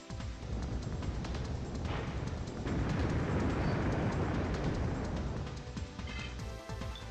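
Giga Fire attack from the Digimon World video game, used in a battle against Ramon: a sustained roaring, rumbling blast that swells around the middle and fades toward the end.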